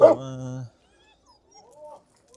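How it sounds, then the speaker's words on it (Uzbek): A three-month-old female German Shepherd puppy at a dog market gives one short, tonal whining yelp up close, followed by a pause and then faint, thin whimpers. "urg'ochi ovcharkamiz. Nemetskiy shekilli."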